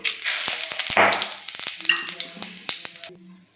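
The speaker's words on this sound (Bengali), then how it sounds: "তেল গরম হয়ে গেছে, তেলের ভিতরে আমি দিয়ে দেবো তেজপাতা, দুটো লঙ্কা আর দেবো গরম মশলা, একটু সাদা জিরে।" Bay leaf, two chillies, garam masala and white cumin sizzle in hot oil for a chicken liver and stomach curry, a close, continuous crackling fry with a few stirring clicks and scrapes.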